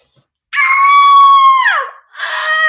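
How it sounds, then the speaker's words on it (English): A person screams loudly, one long sustained high-pitched cry that bends downward, then a second scream begins after a brief pause, close and alone. "So if you are watching this, let's stand up. Let's scream together."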